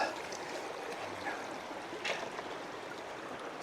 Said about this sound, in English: It's a little quick running water here.